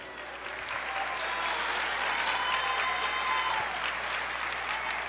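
Church congregation applauding during a worship service, steady sustained clapping from a large crowd, with faint voices beneath the applause.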